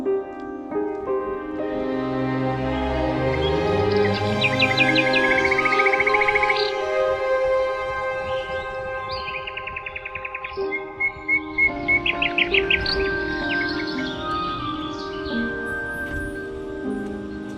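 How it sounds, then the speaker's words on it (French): Several birds, blue jays and cardinals, sing and whistle in varied, melodic phrases in Montreal, with clear chirps and trills rising and falling over a soft background hum. "Ça attire tout plein d'oiseaux, comme des geais bleus et des cardinaux."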